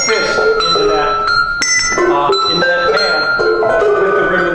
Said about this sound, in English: hitting the handle first and then the bell